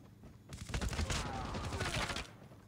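A sentry gun firing in Call of Duty: Mobile, a fast continuous stream of shots lasting under two seconds, moderately quiet, amid game sounds.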